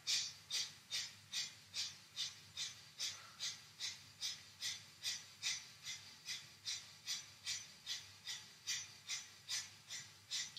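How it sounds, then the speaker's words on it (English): Kapalabhati yoga breathing, a long series of sharp, forceful exhales pumped out through the nose at a quick, even rhythm of about two per second, close and alone. "We'll take an inhale, exhale, and then I'm going to pump the breath."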